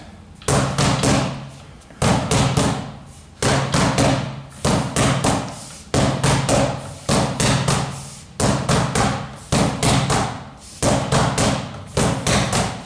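Rattan sticks strike sharply in a sinawali stickwork drill, with crisp rhythmic clusters of hits repeating steadily in a quick three-beat pattern, close and alone.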